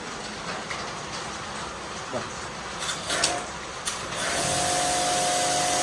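A Shakti Technology S7 Pro high pressure car washer runs as a steady, loud broadband whir that settles into a constant drone after a few seconds, with light clicks and knocks before it.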